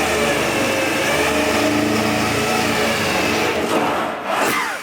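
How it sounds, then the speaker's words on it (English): Power drill boring through a car body panel on a vintage Volvo during engine bay repair work, a steady close whine with grinding, easing off near the end as the bit breaks through. "So I'm drilling the last hole now."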